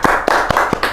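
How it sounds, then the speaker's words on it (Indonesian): A small audience at an Indonesian talk on subsidized housing claps in a quick, steady rhythm, loud and close, about four claps in a second. "Tepuk tangan dulu teman-teman untuk Mr. Puisi, teman-teman."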